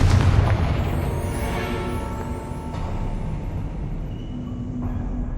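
A Confringo spell explosion in the video game Hogwarts Legacy, one big booming blast at the start that rolls into a long rumbling decay, with faint whooshing debris and no talking.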